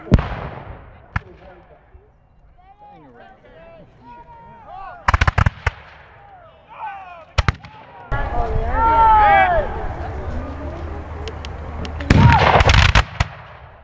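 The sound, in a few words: musket volley fired by reenactors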